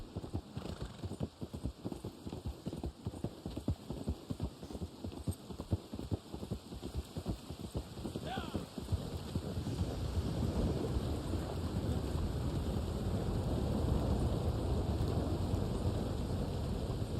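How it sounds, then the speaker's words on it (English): Rain and thunder in the video game Red Dead Online: horse hooves clop steadily at first, then a dense, loud wash of rain takes over with low rumbling underneath and no talking. "Rain does look really good in this game."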